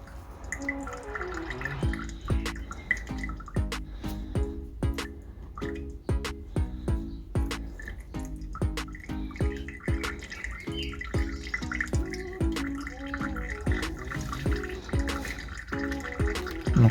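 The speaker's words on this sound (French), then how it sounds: "on laisse couler jusqu'à temps qu'il y ait vraiment du liquide bien clair qui sorte" Brake fluid drips steadily from a bleed valve while the brakes of a BMW E46 are bled, making a rapid, irregular stream of close, crisp drops that runs throughout with no speech.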